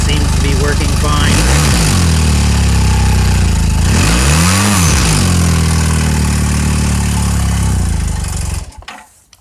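Honda motorcycle engine with CDI ignition, choked and started, running loud and close with two rising-and-falling revs before cutting off near the end.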